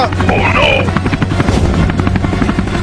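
Rapid, throbbing cartoon helicopter rotor chop, loud and continuous, with a voice briefly calling out in Hindi over the engine drone.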